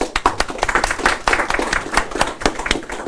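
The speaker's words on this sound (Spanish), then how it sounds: "Aplauso." Audience applause at a Spanish-language legal seminar: a dense burst of many hands clapping, steady and fairly close for about three seconds, with no talking.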